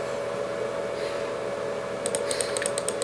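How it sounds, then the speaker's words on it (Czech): Computer keyboard typing: quick bursts of light clicks during the final second, heard against a steady background hum. "Možná slyšíte klávesnice"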